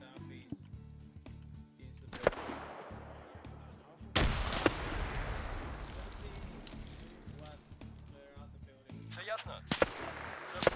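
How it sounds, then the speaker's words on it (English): Grenade explosions in a combat video game: several sharp blasts and booms scattered across the scene, one large detonation with a long rumbling tail in the middle, with voices talking throughout. "They got hit with a grenade."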